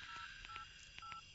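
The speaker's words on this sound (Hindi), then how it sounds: "फोन करके तो देखो।" Telephone keypad dialing tones on a phone in a horror film scene: a short run of distinct beeps in quick uneven succession, fairly faint over a quiet background, with no voices.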